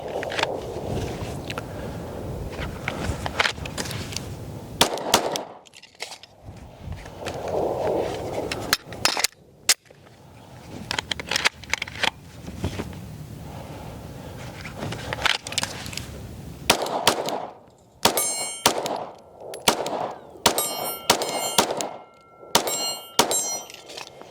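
A Shadow Systems DR920 Elite pistol fires repeatedly at steel targets outdoors, sharp loud reports each followed by a bright metallic ring, coming singly and then in quick strings toward the end.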